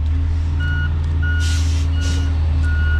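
Garbage truck reversing beeps ring out in evenly spaced, loud tones over a heavy diesel engine rumble, with short hisses of air brakes in between.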